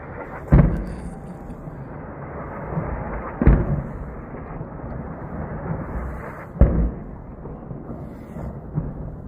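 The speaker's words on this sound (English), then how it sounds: "It's just a bunch of explosions." Explosions from a news report on a US and Israeli attack on Iran play back as three sharp, booming blasts a few seconds apart over a steady low hiss, with a softer thud between them.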